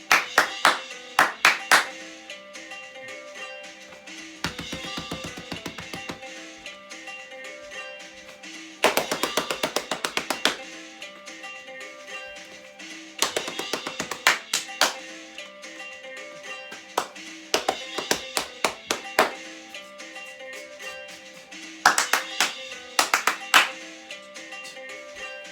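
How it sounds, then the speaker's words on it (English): Hands clap in short rhythmic bursts separated by pauses, a leader's pattern echoed back by a group in a school singing assembly warm-up, loud and crisp with no talking. "My turn, your turn with some clapping."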